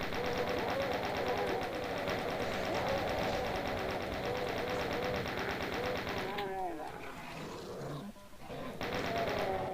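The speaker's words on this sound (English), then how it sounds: "Who is shooting up there?" Rapid automatic gunfire from enemy troopers in a Doom level, a dense continuous rattle of shots with a brief lull before the firing resumes, loud and close throughout.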